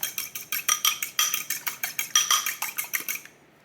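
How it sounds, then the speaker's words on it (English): An egg being beaten in a bowl with a fork, a quick steady series of about two dozen light clinking taps, close and alone. "So then you're going to beat up an egg"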